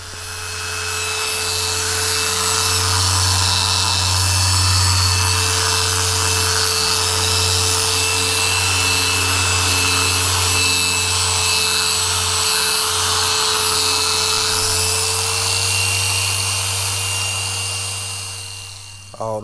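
A machine polisher compounding black car paint to remove orange peel, runs and scratches: a loud, steady motor whine with a constant drone that runs without a break for about twenty seconds.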